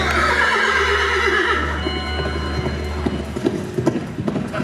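A horse whinnies loudly, followed by clip-clopping hooves and a clattering mechanical rattle, close and alone without talk.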